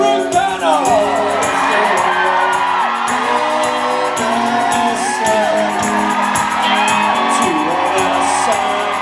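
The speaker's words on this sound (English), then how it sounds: "Please, round of applause for Felicia and Ruth Connell." Convention panel audience cheering, whooping and applauding for two performers on stage, a dense, loud crowd roar with shouts and yells throughout and a song-like tonal layer running under the noise.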